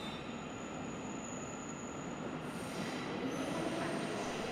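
Metropolitan Line train ambience from Train Simulator 2020: a steady rolling rumble of a rail car with squealing wheels and faint clickety-clack, continuous and fairly loud throughout, with no talking.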